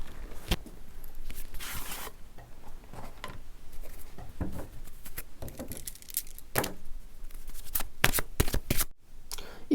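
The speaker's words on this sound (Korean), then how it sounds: "지금 두 사람의 관계를 위한 조언 카드를 뽑아볼게요" Tarot cards shuffled over and over in a steady stream of soft riffling and papery slaps, close and fairly loud, broken by sharper snaps as the deck is squared before an advice card is drawn.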